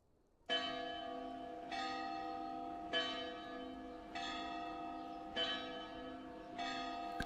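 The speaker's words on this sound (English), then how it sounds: "Or Chapel Bell." A chapel bell in a video game's ambience strikes six times at a slow, even pace, each ringing tone lingering and overlapping the next.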